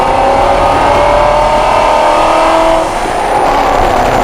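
A modified 2017 Ford GT350 drives the rain-soaked Circuit of the Americas, its engine droning loudly and steadily from inside the car, with the pitch easing off near the end as the car slows.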